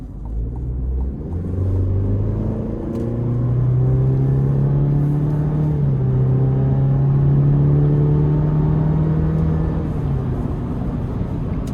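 A 2026 Chevy Colorado LT with the 2.7 turbo engine pulls hard up an interstate on-ramp, its loud, steady engine drone rising in pitch through the gears over a constant road rumble, with no talking.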